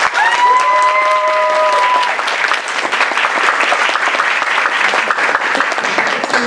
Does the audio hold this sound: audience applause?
yes